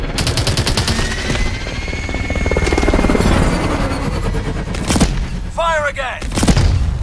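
Rapid gunfire bursts in a Call of Duty campaign battle, loud and sustained over a steady helicopter rotor drone, with sharp impulsive cracks near the end and a voice speaking briefly.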